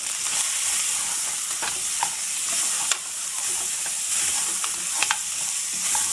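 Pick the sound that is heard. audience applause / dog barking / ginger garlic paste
ginger garlic paste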